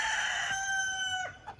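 A rooster among meat-bird chickens crows once close by, a long drawn-out call that fades out, with soft clucking after it.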